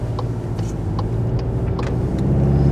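A Seat Leon Cupra R ST station wagon idling and starting to roll off on a cold day, a steady low engine rumble from inside the cabin with a few faint clicks.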